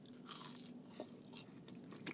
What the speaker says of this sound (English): Nice little crunchy munch for lunch.